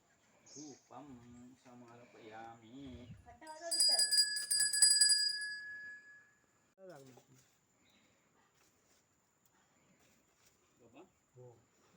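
A hand bell rings rapidly for a couple of seconds, bright and close, after a man chants Sanskrit puja mantras during a village Tulsi Vivah ritual; more talk follows once the ringing stops.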